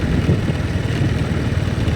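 Farm tractor engine running steadily in open rice fields, a continuous close, loud low rumble with a chugging idle texture and no voices.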